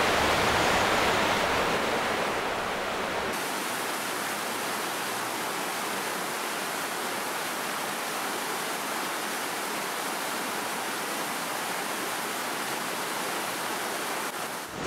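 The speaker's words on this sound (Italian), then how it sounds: "Degli edifici caratteristici con i mulini ad acqua, le cui ruote sono state rimesse in funzione." Water rushing past working water mills with restored wheels in a historic village, heard as a steady, loud broadband wash that runs unbroken for the whole stretch with no voices.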